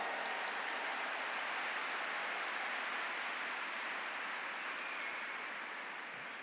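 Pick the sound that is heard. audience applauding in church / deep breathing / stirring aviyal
audience applauding in church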